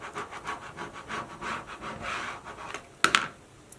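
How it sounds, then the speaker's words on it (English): A squeegee rubs over a vinyl decal on glass in steady back-and-forth strokes, soft and close, ending with a sharper scrape or tap near the end. "using your squeegee or a credit card, rub over your decal."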